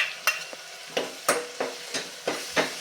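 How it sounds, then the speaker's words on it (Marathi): A spoon scrapes and stirs tomato puree sautéing in a pan for a potato and peas curry, with about eight rhythmic strokes over a soft sizzle. "मिक्स करून घेऊयात आणि हे सुद्धा छानपैकी परतून घेऊयात"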